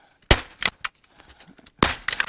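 A staple gun fastens a paper target for pistol shooting practice, giving several sharp, close clacks spaced irregularly with quiet gaps between.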